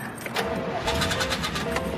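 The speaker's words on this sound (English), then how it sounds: "Listen to that engine." Engine of a 1963 car cranking with rapid rhythmic starter pulses, then catching into a running rumble, moderately close and fairly quiet.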